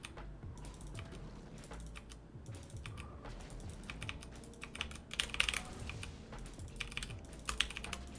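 Rapid typing on a computer keyboard, a continuous stream of close, crisp key clicks with occasional louder clacks and short pauses between bursts, with no voices.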